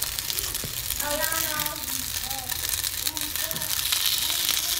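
Pot stickers sizzle and fry in a pan at moderate volume, a constant crackling hiss under nearby voices talking.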